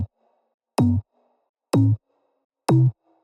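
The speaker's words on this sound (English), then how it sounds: "there's this cool sounding like UK type bass that goes on in the song" Three evenly spaced bursts of a synthesized UK-style bass in an electronic track, each a loud, short, deep wobbling note followed by silence.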